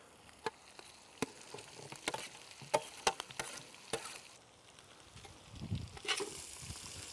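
Onions sizzle quietly in a skillet for cowboy pork chili, with sharp utensil scrapes and taps against the pan punctuating a soft, steady frying hiss.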